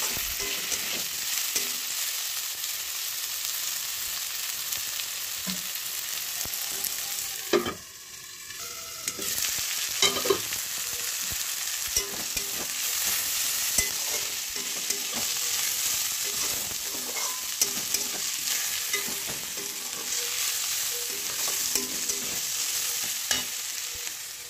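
Potatoes and chopped tomatoes fry in a pan on medium heat with the lid closed, for a ghugni made with chickpeas and peas: a steady, close hiss and crackle with a brief lull partway through and scattered pops, with no talking.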